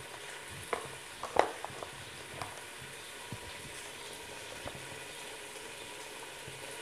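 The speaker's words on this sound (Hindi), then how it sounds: "हमारा अदरक लहसुन अच्छी तरह भुन चुका है" Ginger and garlic sizzle as they fry in a pan for fish biryani, a steady soft crackle with a few clinks of a spoon stirring near the start.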